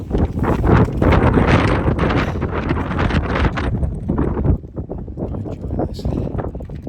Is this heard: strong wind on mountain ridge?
yes